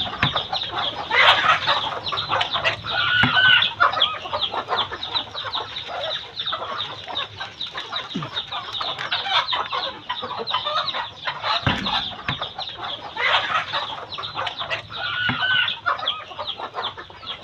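Chicks and chickens clucking on a farm, close and busy, with layered clucks, peeps and occasional louder calls overlapping continuously, with no speech.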